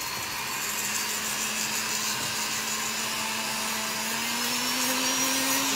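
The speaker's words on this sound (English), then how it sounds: "So now I'm gonna polish. I have a polishing compound" A jewelry polishing tool with polishing compound makes a steady, loud motorized whir with a faint rising tone, continuous throughout with no talk.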